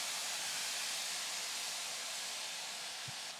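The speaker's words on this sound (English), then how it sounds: "Hear that sizzle?" Hot pan hissing steadily after starchy pasta water is poured in for a pesto pasta with sun-dried tomatoes, a broad, even sizzle held at close range that fades only slightly over a few seconds, with no talking.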